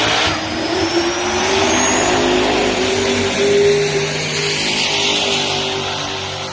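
A supercharged small-block engine with a little nitrous in a 1966 Impala race car from Atlanta revs loudly and steadily, its sustained roar close by with no talk over it.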